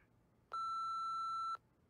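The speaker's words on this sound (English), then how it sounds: "wait for the beep and leave us a message" An answering machine in a Nancy Drew video game gives a single clean electronic beep, steady and lasting about a second, set against near silence.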